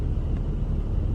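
A BMW M235 car pulls up with a steady, close, low engine rumble that holds for about a second, with no voices.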